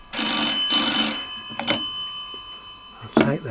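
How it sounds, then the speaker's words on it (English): An old German W28 telephone rings as its hammer strikes the bells, two loud metallic bursts followed by shorter, quieter strikes, sounding close and clear with no talking. "You can see the hammer hitting the bells"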